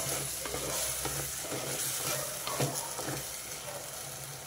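Beans and fenugreek leaves stirred in oil in a pan, a steady wet sizzle with soft scraping strokes of the spoon throughout, close and continuous with no talk.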